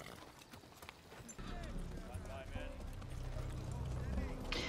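Several horses walk with clip-clopping hooves on the ground as riders are told to dismount, the steady hoofbeats sitting under loud overlapping talk throughout.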